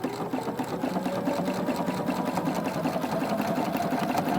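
Sewing machine chain piecing small doll leggings, a steady close mechanical whir with a fast regular stitching rattle running throughout without pause.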